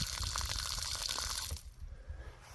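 Water running into a rain catchment tank, a loud gushing rush that cuts off sharply partway through, leaving a quieter, hollow trickle and room hum.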